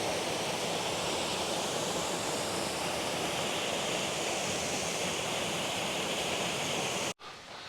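Steady, loud rush of a waterfall by the bridge at the start of the Great Trossachs Path in Scotland, a dense continuous roar heard close, briefly cutting out near the end.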